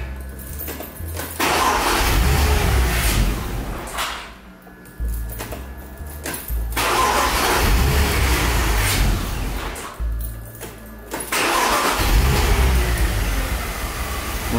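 A car engine repeatedly cranks and catches, running roughly for a few seconds, cutting out, then starting again several times.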